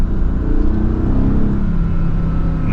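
Engine of a 2016 Mercedes-AMG GT S in Sport mode, a brief, loud, close rev with a low throaty exhaust that stays steady throughout without a sharp climb.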